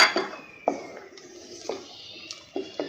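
A spoon clinks and scrapes against a pot while stirring almond milk with cardamom powder, with several distinct taps spaced irregularly and a faint liquid swirl in between.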